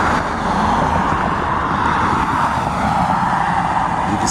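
A 2011 Blue Bird Vision handicap school bus with a Cummins 6.7 turbo diesel comes to a stop, giving off a steady, fairly loud engine rumble and road hiss with no break throughout.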